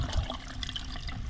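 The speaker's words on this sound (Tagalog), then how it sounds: "ang dami ng tubig niya nilalagay natin." Hot water poured into a cobra's burrow, a steady splashing, gushing wash of liquid at close range, with no talk over it.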